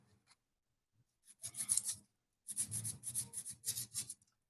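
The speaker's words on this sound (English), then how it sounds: "I just file it off" Hand filing of a rough, sharp edge on a resin domino made in a standard mold: two bursts of close, steady rasping strokes, a short one and then a longer run of repeated rubs.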